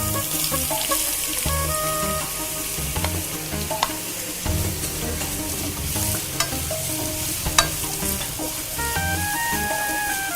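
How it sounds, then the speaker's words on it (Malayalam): Chopped onions frying in oil with fenugreek for karimeen masala, a continuous sizzle with occasional spatula scrapes and clinks as they are stirred, close and without talk. "നമുക്കിനി ഇതിലേക്ക് സവോള ചേർക്കാം"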